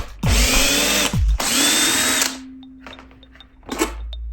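A power tool, likely a cordless drill or impact driver, removes the fuel tank bolts on a Honda CRF300L motorcycle: two close, loud bursts of whirring, then a fainter hum and light clicks.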